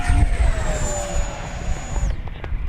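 FMS Futura RC model jet climbing vertically at a flying field, a loud turbine whine that holds steady and then drops away as the plane pulls up, over wind rumble.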